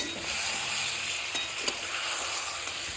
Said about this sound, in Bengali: সমস্ত কিছু একটু ভালো করে নেড়ে একটু কষিয়ে নেবো।